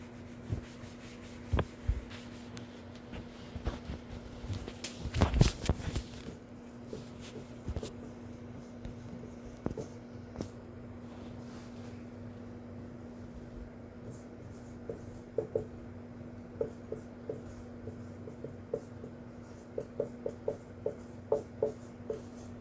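Chalk or marker writing on a board comes through as scattered light taps and scratches in faint, intermittent bursts over a steady low electrical hum in a lecture room.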